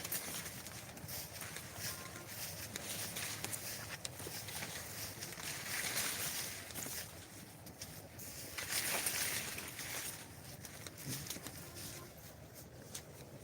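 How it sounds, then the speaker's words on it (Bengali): An electric water pump motor runs continuously with a steady rushing drone as it irrigates a rice paddy field, with faint outdoor background sounds. "এখন কারেন্ট আসছে আবার মোটর চালু হয়ে গেছে"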